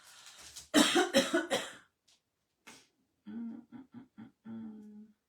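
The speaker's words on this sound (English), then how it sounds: "Let me cough for a second." A quick burst of four or five harsh coughs up close, then a pause and some short throaty, hummed sounds.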